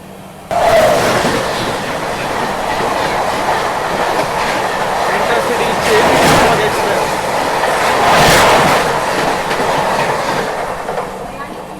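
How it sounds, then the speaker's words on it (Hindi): The Mumbai Nagpur Duronto train runs at high speed while the Dadar Hubli Express overtakes on the parallel track, a loud, steady roar and rattle of wheels with swelling passes, under some voices. "ये क्या था भाई, पैरेलल पे ओवरटेक करके गई गाड़ी"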